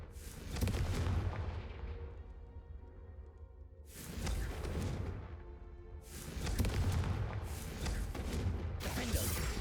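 Confringo fire-blast spells in Hogwarts Legacy burst out as several loud, booming explosions, each decaying before the next, separated by brief quieter gaps.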